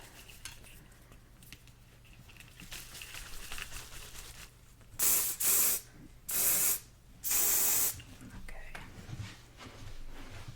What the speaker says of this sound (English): I'm going to go ahead and spray this back piece that I'm going to work on.